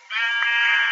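A Minecraft sheep in the Tekkit modpack lets out one loud, close, nasal bleat that holds steady for nearly a second.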